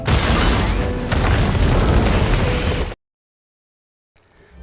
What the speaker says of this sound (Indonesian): ia juga mengaktifkan bom yang telah ia pasang di setiap sudut gedung tersebut